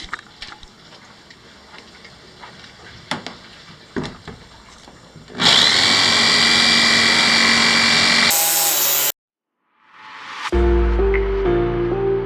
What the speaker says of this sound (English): Now we can get around this hole here with the jigsaw.